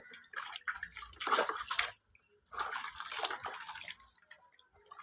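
Water sloshing and splashing during a baby's first bath, in two bursts of wet, moderately close splashes separated by short pauses, with faint drips in between.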